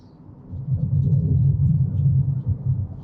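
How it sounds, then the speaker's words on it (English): Tyres of a Wuling Bingo electric car roar low and steady on coarse pavement while cornering, a continuous rumble heard from inside the cabin. "little bit of tire noise, but that's because the pavement is coarse"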